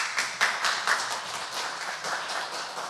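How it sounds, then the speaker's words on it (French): Applause from an audience at an official IGAD meeting, many hands clapping together in a dense, even patter with a few louder claps, continuing steadily without talk. "Un applaudissement, s'il vous plaît."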